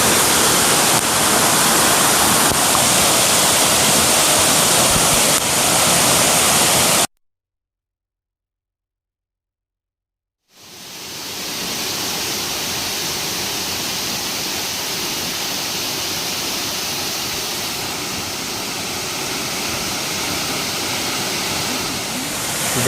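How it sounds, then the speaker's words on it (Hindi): The Kavaldhara waterfall in the Maikal hills, more than 30 feet high and the source of the Half river, gives off a loud, steady roar. The roar cuts to silence for about three seconds partway through, then resumes. "लीजिए आप लुत्फ़ उठाइए इस वाटरफॉल का।"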